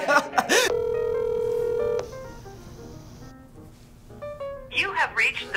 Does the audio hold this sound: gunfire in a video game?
no